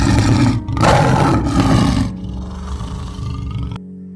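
A lion roars loudly in a deep, rumbling burst lasting a few seconds, close and alone before fading into a low growl and stopping abruptly.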